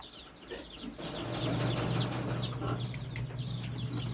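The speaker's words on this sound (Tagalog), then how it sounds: "Yun po yung aking first batch ng mga chicken." A first batch of grown chickens clucks and chirps in short, scattered calls over a low, steady background hum at moderate distance, with no talking.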